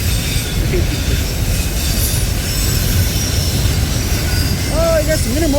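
Loud, continuous rumble and roar of a freight train carrying intermodal containers rolling past close by, with wheel squeals rising near the end, no speech over it.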